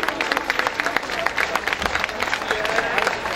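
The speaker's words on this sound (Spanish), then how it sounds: "entonces un aplauso bien fuerte para ellos." Crowd applause at a Santa Cruz national folk festival serenade to Esquipulas, honoring the Santo Cristo de Esquipulas horsemen's group; dense, continuous clapping from a large outdoor crowd with a murmur of voices beneath.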